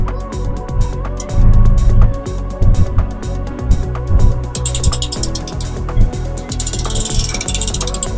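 A rotating metal laptop stand clicks and ratchets as a laptop is set on it and adjusted, giving repeated close mechanical clicks and rattling in irregular bursts, with no talking.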